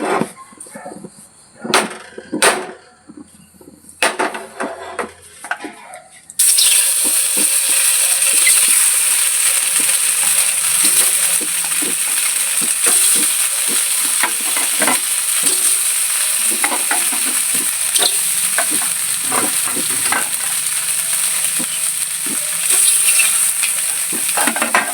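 Chicken kalmas, a Thalassery street-stall snack, fry in coconut oil in a pan; a few scattered knocks and clatters come first, then a loud, steady, close sizzle runs on with repeated scraping and stirring strokes.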